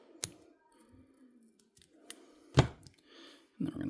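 Scissors snip back fly-tying materials at a vise, giving a few sharp, close cuts spread out with quiet pauses between them and no talking.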